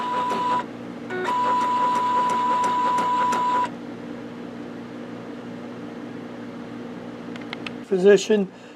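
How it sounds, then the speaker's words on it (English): An Epson Artisan 1430 inkjet printer whirs steadily as its cartridge carriage shifts into the change position, a mechanical hum with a faint high whine that stops partway, then a brief sharp clatter near the end. "now the cartridges are going to come over to what we call the cartridge change"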